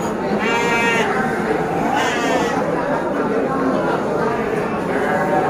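Female Garut sheep bleat repeatedly at a livestock market, several loud bleats at roughly one-second intervals over a dense, noisy crowd of animals and people talking.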